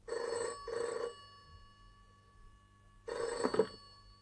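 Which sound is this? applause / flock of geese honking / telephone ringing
telephone ringing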